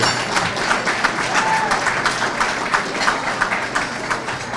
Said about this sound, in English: Another round of applause for Sonia